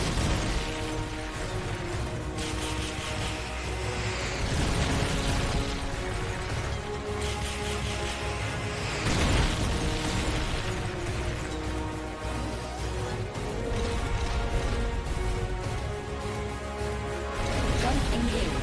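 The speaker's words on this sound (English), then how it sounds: "Firing rocket launcher." Rocket launcher fire and explosions in the video game Metal Gear Solid: Peace Walker, a dense, loud, continuous barrage of blasts and crashes with mechanical noise and game music, and speech mixed in throughout.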